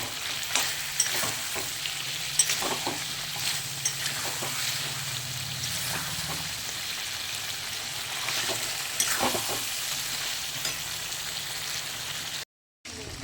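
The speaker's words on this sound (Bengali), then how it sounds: "এইবার আমি মাংসটা খুব ভালো করে কষিয়ে নেব।" Mutton being stir-fried in a pan with cumin and coriander powder, a continuous close sizzle broken by repeated scraping stirs of the spatula, with a short gap near the end.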